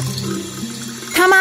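A kitchen tap runs hot water while dishes are washed, a close, steady splashing stream. Brief clinks and a sharper burst of flow come near the end.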